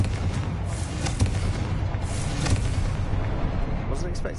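A fiery blast from the Confringo spell in the video game Hogwarts Legacy, a loud rumbling explosion that sustains with crackling bursts, mixed with game sound and a voice beneath.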